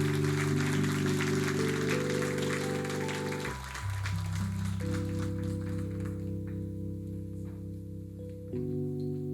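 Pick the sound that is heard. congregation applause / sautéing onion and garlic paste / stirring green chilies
congregation applause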